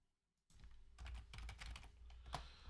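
Steady, fairly quiet clatter of fingers typing on a computer keyboard, a dense run of keystrokes after a brief silence, with no one speaking.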